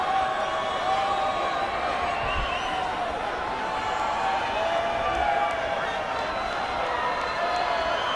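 A stadium crowd cheers and murmurs in support of the Tonga rugby squad during a match, a steady broad roar throughout with a commentator talking over it.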